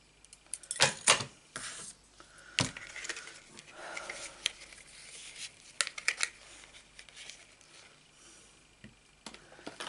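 Sharp scissors trimming excess paper or card for a Stampin' Up craft project: a few soft, close snips and crisp cuts scattered among quiet handling rustles, faint overall.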